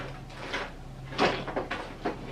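A drawer is pulled open and rummaged through right beside the microphone, giving several soft knocks, bumps and scrapes in an uneven rhythm with no talking.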